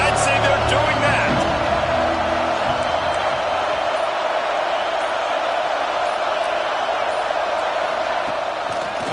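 A packed stadium crowd at an Oregon college football game against Arizona State, giving a steady, loud roar that fills the whole stretch, with a commentator talking over it.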